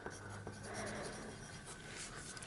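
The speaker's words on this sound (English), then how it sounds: "Let me get a pencil." Pencil sketching on paper, a close, dry scratching and scribbling that continues through the clip with small taps and a louder tap at the very end.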